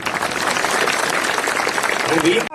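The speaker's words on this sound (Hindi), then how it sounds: "ताली बजाओ इस बात पर।" A village crowd claps at a welcome ceremony for a UPSC-ranked candidate. Dense, fairly loud applause runs under speaking voices and cuts off sharply at the end.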